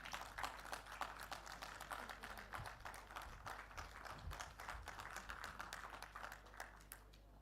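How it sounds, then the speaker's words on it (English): An audience applauds a panelist at a panel discussion on rural women entrepreneurs: steady, dense clapping that stays fairly faint and distant throughout, with no voices over it. "Let's give her a big round of applause."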